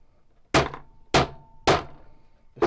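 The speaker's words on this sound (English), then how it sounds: "Take this tool, put it on," A setting tool is struck with a hammer to fix a fitting into a leather Bowie knife sheath, four sharp separate knocks about a second apart, close and clear against quiet.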